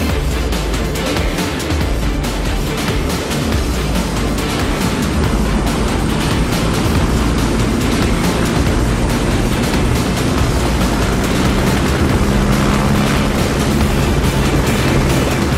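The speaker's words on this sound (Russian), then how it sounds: "К-62 – новый, мощный многоцелевой вертолет для решения широкого круга задач." A Ka-62 multipurpose helicopter in flight gives a steady, loud, dense roar of rotor and turbine noise that holds without a break, with no voices.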